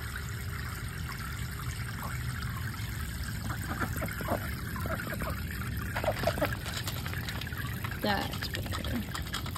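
Fresh water trickles and pours steadily into a duck's water dish, a soft continuous flow heard close by under a person's voice talking.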